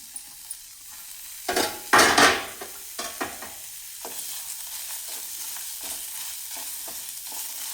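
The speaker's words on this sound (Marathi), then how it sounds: "आता ह्याच कढईत आपण कांदा भाजून घेऊया आधी कांदा असाच थोडासा कोरडा परतून घ्यायचा" Onion dry-roasting in a kadai, stirred with a spoon: a few sharp scraping and clattering strokes early, then a quieter, steady sizzle with occasional light scrapes and no voices.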